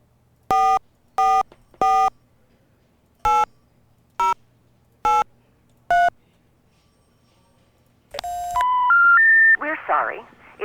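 In the X Files video game, a run of seven evenly spaced telephone keypad beeps sounds loud and close, followed by a rising three-note intercept tone that leads into a recorded operator voice.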